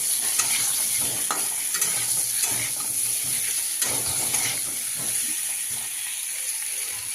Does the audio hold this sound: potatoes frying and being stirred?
yes